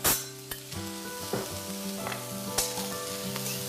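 Cauliflower and onions sizzle steadily in a hot frying pan, with occasional scraping and stirring clatters from a utensil, close up and without talk.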